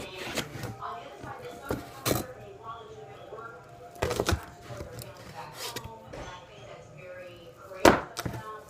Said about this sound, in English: Chop, chop, chop,